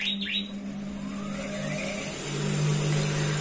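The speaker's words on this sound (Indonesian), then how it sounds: "kita hidupkan dulu mesin jahitnya" A sewing machine's electric dynamo motor runs with a steady mechanical hum and whine that holds on continuously and grows slightly louder toward the end, with no talking.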